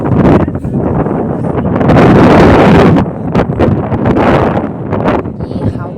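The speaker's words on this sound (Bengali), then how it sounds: "এতটাই হাওয়া, এত জোর হাওয়া দিচ্ছে" Strong wind blows hard at snowy Zero Point near Gangtok, roaring and buffeting the microphone close up in gusts that swell and ease, with no clear pauses.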